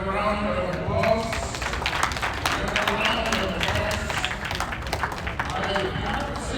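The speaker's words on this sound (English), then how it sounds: "Please give him another round of applause." Applause from a convention audience fills the room, steady broadband clapping sustained throughout at moderate loudness, with some crowd murmur mixed in.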